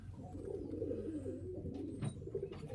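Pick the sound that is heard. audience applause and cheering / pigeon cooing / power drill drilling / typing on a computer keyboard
pigeon cooing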